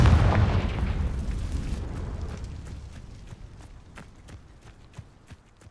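A Confringo blasting spell explodes in Hogwarts Legacy: a loud, booming burst at the start that rumbles and slowly fades over several seconds, followed by scattered light impact sounds.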